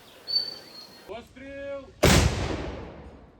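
A single loud, close artillery boom from a gun called Ivankivska vidma firing a shell, with a long rumbling decay. Brief muffled voices and rustling come just before it.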